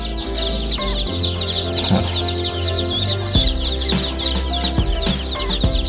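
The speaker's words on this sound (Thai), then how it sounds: "เป็นลูกไก่ไข่นะครับ ลูกไก่ไข่สายพันธุ์แท้นะครับ" Dense, continuous high-pitched cheeping from many purebred layer chicks on a farm, loud and close, with occasional clucks and low rumbling handling noise underneath.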